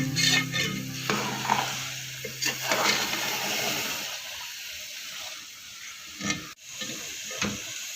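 Carrot halwa roasting in ghee over a full flame, stirred steadily with a low sizzle and intermittent scraping strokes that rise and fall across the pan, with no voices.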